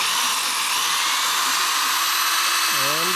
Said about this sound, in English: Now I'm going to start the drill, and to polish this